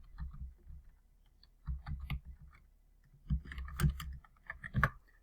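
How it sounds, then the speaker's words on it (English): Keys tapped on a computer keyboard while a search term is entered, a few scattered clicks followed by two denser, louder bursts of typing, close and clear with no talk. "essentially what you do is just type in a search term"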